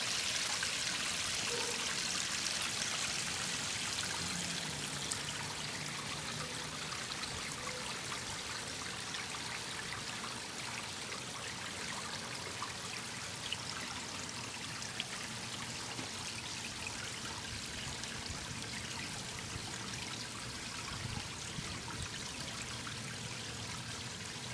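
A backyard waterfall stream runs steadily around three big rocks and under a log, giving a constant close rush and trickle of water with no voices.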